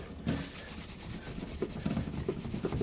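Tape residue is rubbed off a painted surface by hand, producing quiet, soft, repeated scrubbing strokes close up in a calm setting.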